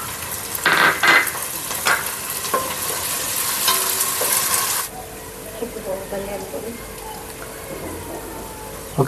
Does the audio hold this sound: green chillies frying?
yes